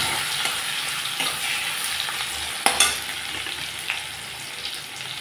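Boiled potatoes hit hot mustard oil with cumin in a wok, giving a steady, bright sizzle close up, with a single clatter midway.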